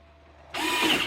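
A screw is power-driven to fasten an I-hook connector holding a BNC cable in place, a sudden close whirring burst starting halfway through and running loud to the end.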